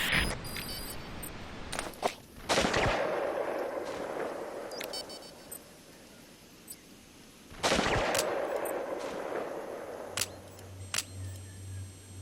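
Bursts of gunfire in Metal Gear Solid V, with loud cracking volleys at the start and again midway over a steady background of game noise.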